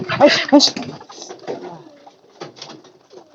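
A pigeon coos close by, a few soft throaty calls near the start, followed by quieter rustling and faint sounds.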